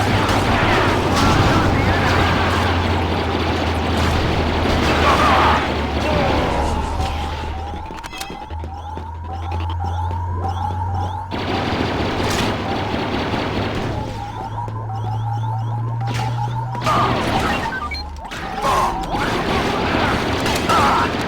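Continuous gunfire and explosions in the 2005 video game Star Wars Battlefront 2 mix into a dense, loud battle din with rapid blaster bursts, rumbling blasts and a droning tone, while voices call out over it.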